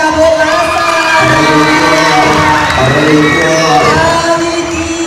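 A crowd cheers and whoops steadily at a Miss Gay pageant in Calzada, Taguig, a dense wash of voices and shouts that holds loud throughout without a break.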